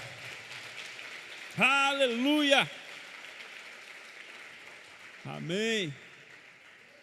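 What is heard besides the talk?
congregation applauding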